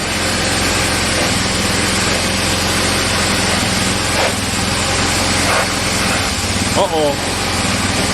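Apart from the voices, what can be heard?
pressure washer engine sputtering, nearly dying out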